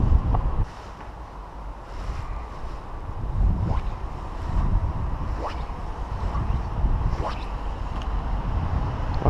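Wind gusts across a microphone by the river Vilaine during a fishing outing. It makes a loud, steady low rumble with broad rushing swells and a few brief whooshes, and no talking is heard.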